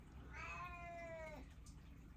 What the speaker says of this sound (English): I've got a crazy cat right now.